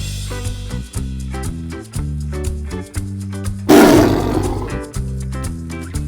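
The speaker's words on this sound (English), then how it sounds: "Tiger." A tiger gives one loud, rough roar that bursts in partway through and fades over about a second, set over a bouncy, repeating music track.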